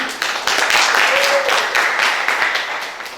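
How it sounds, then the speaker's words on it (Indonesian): Audience applause fills a hall during a welcome-week assembly at an Islamic boarding school, a steady dense patter of many hands that runs throughout at moderate loudness, with some voices mixed in. "Tepuk tangan"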